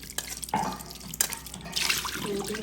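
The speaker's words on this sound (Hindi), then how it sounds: "इसको भी पहले अच्छे से धोएंगे" Homemade cow's-milk paneer being rinsed under a running tap, with steady splashing and dripping water close by and a few sharper knocks against the sink, no talking.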